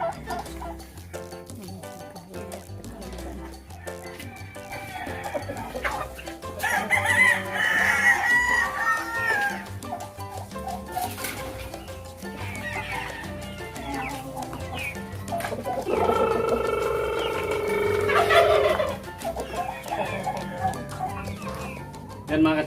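Rhode Island Red roosters crow and cluck in a backyard poultry pen, several loud crows rising over a steady, busy background of clucking birds, with some faint talking mixed in.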